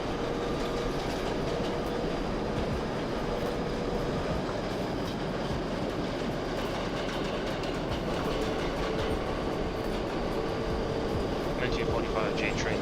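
A simulated NYC subway J train in OpenBve rumbles continuously with steady wheel and rail noise and faint rhythmic clicks, a constant close drone without pauses.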